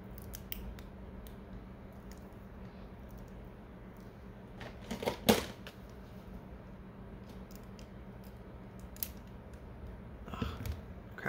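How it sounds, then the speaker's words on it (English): Scissors cutting close by in a quiet room while replacing a CR2025 battery in a flash cartridge, with faint snips and creaks and one louder cluster of cuts midway. "Scissors."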